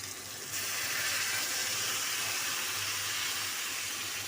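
Peas dropped into a hot pan of chicken masala, an abrupt onset of loud, steady sizzling hiss that holds evenly for several seconds with no voices over it.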